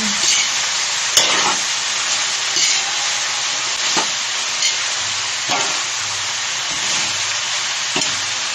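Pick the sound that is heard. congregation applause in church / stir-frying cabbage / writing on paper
stir-frying cabbage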